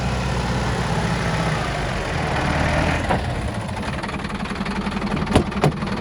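A vehicle engine labours and revs while climbing uphill on rough ground, a steady loud drone with uneven surges and a few sharp knocks toward the end.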